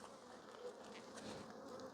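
Honey bees swarm around an open hive box during a March inspection, frames heavy with nectar and bee bread, giving a dense, steady, close buzzing drone that fills the air without pause.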